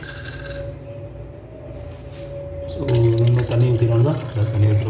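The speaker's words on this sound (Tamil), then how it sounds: "நல்லா மிக்ஸ் பண்ணி தண்ணியை ஊற்றிடுவோம்" Water pours steadily into a pot of camel meat curry, splashing and gurgling loudly after a stretch of quieter kitchen sounds.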